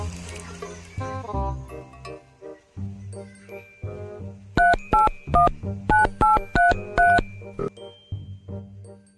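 A mobile phone keypad beeps out a rapid run of about nine dialing tones while someone calls a friend's number, following a stretch of background music and clatter.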